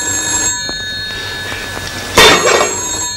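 A telephone rings in a grocery store, its bell tone sounding once clearly and loudly near the end after a quieter stretch of room noise.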